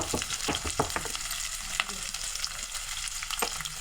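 Onion and green chili pieces fry in oil in a kadai for Telugu goat head curry, a steady hiss with scattered crackles and spoon scrapes, close and moderately loud.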